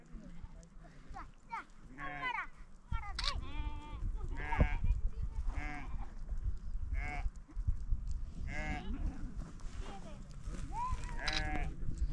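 Several sheep bleat repeatedly at close range on the Chandratal trekking route, wavering calls overlapping one another, while people talk in the background.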